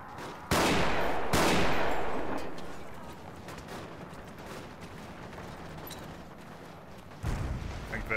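Loud bursts of G41 rifle fire in a World War II-style shooter, two sharp blasts close together at the start, then a long reverberant battlefield rumble and another burst near the end.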